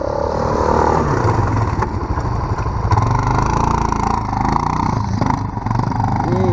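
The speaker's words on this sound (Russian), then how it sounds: "Квадрик пытается заехать." A quad bike engine drones and labors as it tries to drive through sand, a loud, steady, close motor roar with clattering over several seconds.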